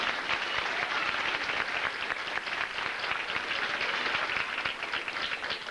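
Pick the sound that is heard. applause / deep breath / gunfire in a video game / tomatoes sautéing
applause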